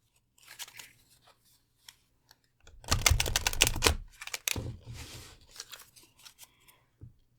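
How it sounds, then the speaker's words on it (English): An oracle card deck is shuffled by hand in quick, papery bursts of riffling and slapping cards, loud and close, with short pauses between rounds and no speech. "the sheer wind volume of the L Key Oracle being shuffled"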